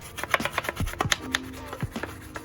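Hard bristle brush scrubbing caked grime on a BMW X5 in the engine bay, with a quick series of close, raspy scraping strokes and irregular knocks, no talking.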